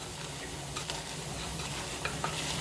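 Garlic for mofongo fries in hot oil, giving a steady, close sizzle with small pops and crackles throughout.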